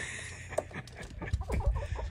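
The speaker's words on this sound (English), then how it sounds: "if you leave the door open to a vehicle, these chickens, they're ready to go." Chickens clucking close by after climbing into an open vehicle, short irregular clucks and rustling over low thumps and scuffling, with no talk.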